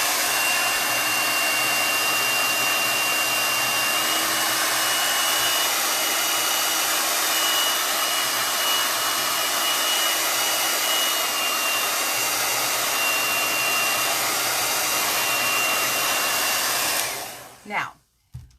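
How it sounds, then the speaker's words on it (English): A handheld blow dryer runs steadily at close range, drying chalk paste on a craft surface, a loud continuous whooshing roar with a faint whine that cuts off abruptly near the end. "Okay, so here's my blow dryer."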